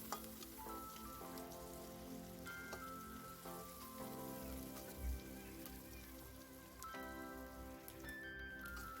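Shallots and garlic sauté in a hot pan with oil, giving a dense, steady sizzle that crackles like rain, close and continuous throughout, with no voices.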